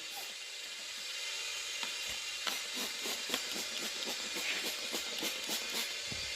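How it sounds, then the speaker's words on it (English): A spray bottle of Dawn dish soap and a little water misting onto the weld seams of a repaired aluminum fuel tank, with a quick run of short hissing spritzes in an uneven rhythm. "I just spray all the weld seams"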